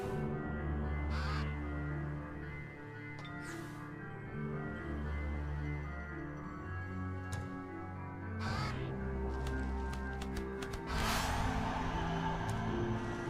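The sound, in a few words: Greenbeak crow cawing in video game Age of Wonders 3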